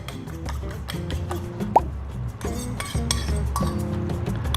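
An egg drops into tofu sarciado simmering in a pan, making a soft plop among light clinks of utensils against cookware over a low bubbling background, with no talking.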